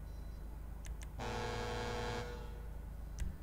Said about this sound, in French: On se fait un petit klaxon